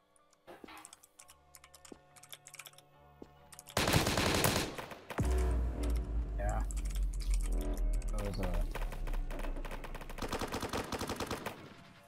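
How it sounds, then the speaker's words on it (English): Gunfire from guns shot into the air in the shooter game BRM5, bursts of rapid automatic rounds mixed with sharp clicks and game effects, with talk underneath. "Let these guys firing their guns in the air."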